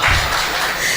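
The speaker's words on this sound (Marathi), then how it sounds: "घ्या टाळ्या वाजवून." Audience applause fills a literary conference hall, a dense, steady wash of clapping that holds for about a second at fairly loud level.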